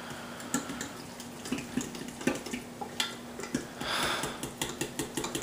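A spoon mixes yogurt and semolina in a bowl, tapping and scraping against the sides in quick, fairly regular soft clicks, with a short wetter swish midway.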